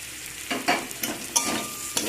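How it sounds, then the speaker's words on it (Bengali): A ground mustard spice paste is stirred in a frying pan for a fish curry with green tomatoes, giving a soft continuous sizzle broken by several sharp scraping strokes of the spoon at uneven intervals, with no talk. "মশলা দিয়ে ভালো করে সব কিছুকে নাড়াচাড়া করে নেব এখানে সরষের মশলা দিয়েছি"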